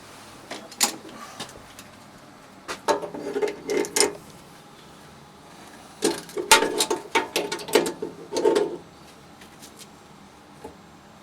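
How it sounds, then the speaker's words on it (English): Wrench tightening a gas regulator onto a smart meter's fitting, heard as bursts of close metallic clicking and ratcheting scrapes in several short runs, separated by pauses. "Now we can tighten the regulator up onto the meter."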